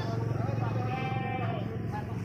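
A black-headed Peranakan Etawa goat buck of ordinary grade bleats in a sustained, wavering call, with a voice talking over it at close range.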